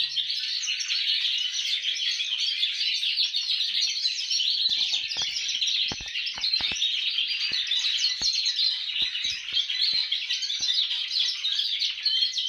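A pet canary sings a goldfinch-style song, a continuous bright stream of rapid chirps and twitters, loud and close throughout, with a few sharp clicks in the background.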